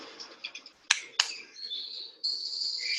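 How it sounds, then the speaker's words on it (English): Bright, continuous electronic chirping like birdsong from a white noise machine's birdsong setting, with two sharp clicks early on, then a steady warbling tone that grows louder and holds to the end. "I don't know if you guys can hear that, but it's like birds singing."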